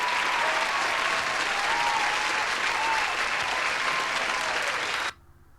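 Steady applause from a live stream audience, dense and sustained for about five seconds at an even level, then cutting off abruptly into near silence.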